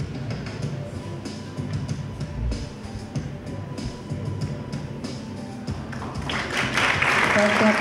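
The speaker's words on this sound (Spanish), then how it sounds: "Aplauso para" Audience applause at an anniversary ceremony with plaques and keepsakes being presented, a steady crowd clapping that swells louder toward the end, with voices mixed in.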